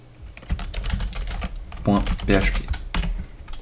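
Quick keystrokes on a computer keyboard while code is being written, a close burst of uneven clicks and taps that bunch together in short flurries.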